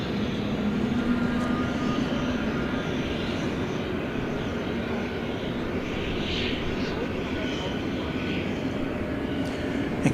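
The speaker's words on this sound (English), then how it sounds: "this is one of the newest, or the newest MD-11s I've seen UPS have." A UPS MD-11 freighter at DFW Airport produces a steady, moderately distant jet roar with a broad rushing wash, and faint voices surface now and then.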